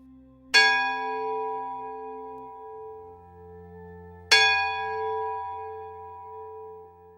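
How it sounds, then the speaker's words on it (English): A mindfulness bell is struck twice, each a clear bright ring with rich overtones that slowly decays, the strikes spaced several seconds apart in a quiet room. "Now I'm going to ring the mindfulness bell."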